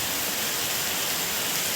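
Heavy rain falling steadily outside a home, a dense, even hiss that fills the whole stretch without pause or voices.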